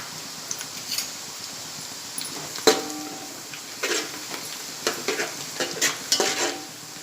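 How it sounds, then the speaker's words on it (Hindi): Almonds fry lightly in melted ghee in a pan for sheer khurma, giving a soft sizzle broken by the clinks and scrapes of a spoon stirring, close and fairly quiet. "मैं बादाम डाल रही हूँ, इसे हल्का तल कर निकालूँगी।"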